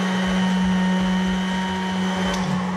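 An electric pasta machine rolls egg noodle dough for tagliatelle at the fourth roller setting, giving a steady, loud motor hum with a constant whine and no breaks.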